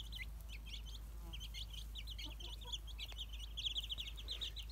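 Chickens cluck and chirp in a busy, overlapping chorus over a constant low hum as they eat grass and scratch, with soft scattered calls throughout.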